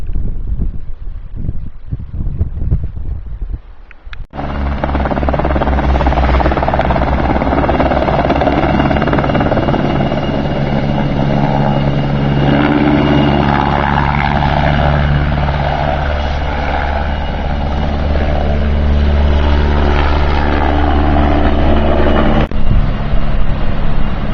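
After a few seconds of quiet rustling, a nearby helicopter at a wildfire in Tui, Spain, starts its engine and rotors, roaring loudly and steadily before stopping abruptly.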